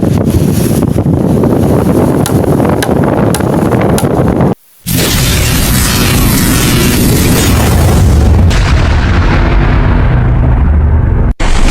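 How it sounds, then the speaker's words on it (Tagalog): Loud, roaring typhoon wind buffets close by with a broad rushing wash of sea waves underneath, continuous and heavy, broken by a brief gap. "Kusog na kay hangin og balod."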